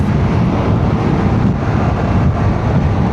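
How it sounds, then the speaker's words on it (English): Steady wind roars and buffets across the microphone at a van park, a continuous low rumble with no pauses and no voices. "It's windy here."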